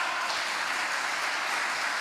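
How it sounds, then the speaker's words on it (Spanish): Faint, steady applause from a church congregation during a Christian sermon, a distant wash of clapping held evenly throughout with no voices on top. "Entonces, si vas a aplaudir, apláudele."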